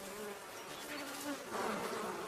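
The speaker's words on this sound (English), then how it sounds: "Few creatures dare tackle wasps." Wasps buzzing near a badger sett, a steady, insistent insect drone that swells louder toward the end, with no voices.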